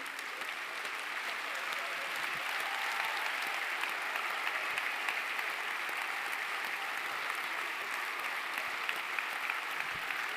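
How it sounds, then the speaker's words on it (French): A hall audience gives a long ovation to local elected officials at a French public event, a dense, even roar of many hands clapping without pause for about ten seconds, steady and moderately distant. "on va applaudir les élus"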